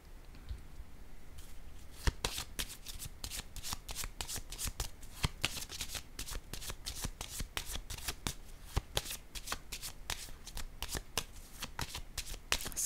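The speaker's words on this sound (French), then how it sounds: "je vais piger une autre carte." Tarot cards shuffled and drawn up close: a steady run of crisp, papery riffles and flicks with sharp snaps that keep going without a pause, and no voices.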